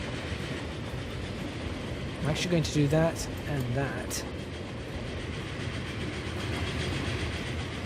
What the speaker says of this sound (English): We can really get a look at this train for the last time.